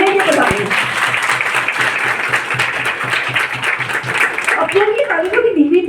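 Loud audience applause fills a meeting hall, dense steady clapping from a crowd that tapers off near the end as a voice begins speaking.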